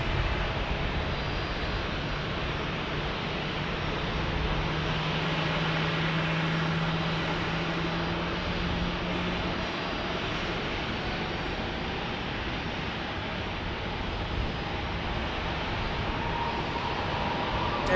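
A Southwest Airlines plane arriving at San Diego airport makes a broad, steady jet roar that holds level throughout, with a faint low drone rising and fading in the middle and no one talking.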